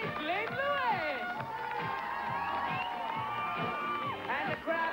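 Crowd cheering at a 1985 BMX competition, a lively mix of shouts, whoops and clapping from many people, steady and fairly distant, with overlapping voices throughout.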